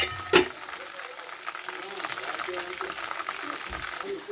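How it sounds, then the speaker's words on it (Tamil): Mutton leg pieces fry in a pan for a mutton biryani with a soft, continuous sizzle and crackle. A sharp clatter sounds near the start, and faint low voices murmur underneath. "நம்ம லெக்ஸ் வேறு நல்லா பொரிஞ்சிக்கிட்டு இருக்கு."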